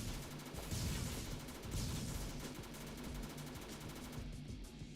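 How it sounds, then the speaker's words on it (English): Rapid P90 gunfire in the zombie obby game Tower of Killers, dense continuous bursts of shots at steady loudness with no talking. "So I'm using my P90 this time, and it's doing more damage because I'm able to hit it with more rounds"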